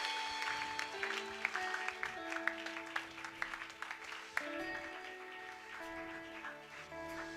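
A church congregation at a deliverance service claps for the Lord, a steady run of hand claps with sharp individual slaps over sustained music, moderately loud and continuous.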